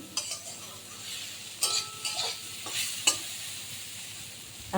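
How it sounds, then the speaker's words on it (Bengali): Bhotbhoti bata paste being stirred in a pan as its water cooks off, a low continuous sizzle broken by a few sharp scrapes and taps of the spoon against the pan, close and quiet. "তো এবার নেড়ে চেড়ে জলটাকে পুরো টানিয়ে নেব"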